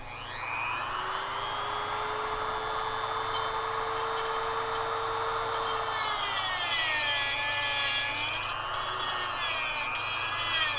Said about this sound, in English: I'm going to use my little Dremel cutting wheel to hopefully get this guy off.